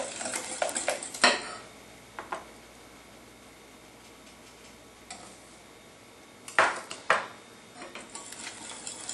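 Sugar being mixed into beaten eggs in a bowl for lemon curd: a utensil clinks and scrapes against the bowl in short bursts, with a quieter stretch of gentle stirring between, close and fairly faint, no talking.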